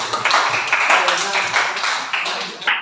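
Children in a classroom clap together in a brisk, continuous burst of applause lasting a few seconds, close and fairly loud, with scattered voices mixed in.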